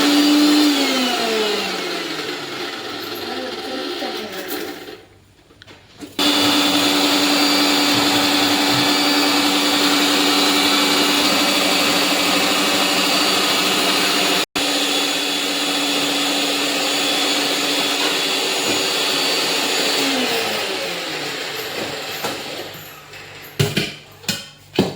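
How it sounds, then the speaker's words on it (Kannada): A kitchen mixer grinder whirs loudly and close up in a home kitchen, running steadily with a brief pause around five seconds, then a long continuous spell, ending in sputtering stops and restarts. "ಮಿಕ್ಸಿ ಒಂದು"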